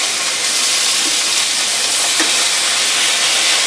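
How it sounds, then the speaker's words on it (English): Pork chops sizzle in a hot pan, a steady broadband hiss of searing meat that runs continuously and fairly loud, with a couple of faint pops and no voices. "Now we're going to check back on our pork chops, which are sizzling really well."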